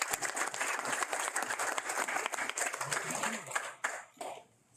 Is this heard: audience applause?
yes